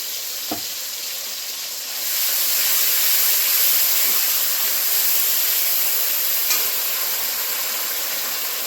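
Cumin paste is added to a hot pan of oil and fries with a steady sizzle. A soft clink is followed by a louder, continuous hiss that holds evenly to the end, with no one talking.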